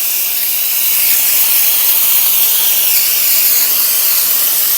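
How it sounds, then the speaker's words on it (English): Pam cooking spray hisses from a can in one continuous, loud, close burst of airy spray, sustained and even with no breaks and no voices. "I'm just going to go spray it with some Pam to help just everything kind of adhere together."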